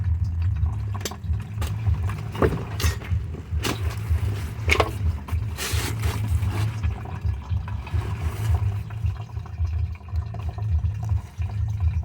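Fuel leaks from a fuel line on a 1994 Toyota pickup, a steady trickling splash mixed with a continuous low rumble, fairly loud and close throughout.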